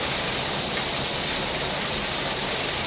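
Steady rain pours down at a lagoon on Curaçao, a dense, even hiss with no breaks, heard alone.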